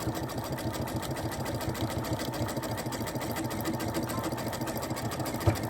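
A domestic sewing machine runs decorative stitching with variegated Madeira embroidery thread, a fast, even mechanical whirring patter held steady throughout, close and moderately loud.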